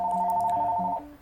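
Telephone ringing in the background, one sustained electronic ring tone lasting about a second before cutting off, fairly clear under a quiet room.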